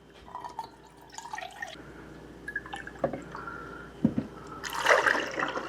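Beef broth pours into a measuring cup in a kitchen with soft liquid trickles and drips, and a louder burst of splashing near the end. The sound is fairly faint and close, with no one talking.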